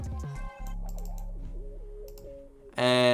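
A Vinexi Cycles synth lead one-shot plays a simple melodic line of sustained, gliding notes over a low bass tone, ending in a sudden bright, dense burst.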